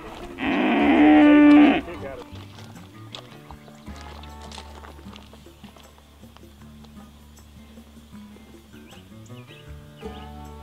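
A cow lets out one loud, drawn-out moo early on, close to the microphone, while cattle are moved between pasture paddocks. Quieter outdoor sounds and faint knocks follow.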